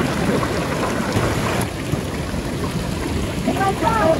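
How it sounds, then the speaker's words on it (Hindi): Cold natural mountain spring water in Kohistan flows at a steady rushing stream, a continuous broadband wash with no pauses, with faint higher tones near the end. "ये आप देखें ये सारे चश्मा बह रहे हैं"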